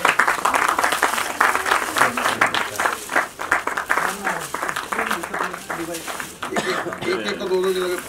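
Strong audience applause at a music album launch, dense continuous clapping that swells and dips over several seconds, with voices mixed in.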